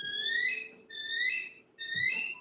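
Three thin, high chirping calls from a bald eagle, each a rising whistled series, repeat in quick succession against a quiet background.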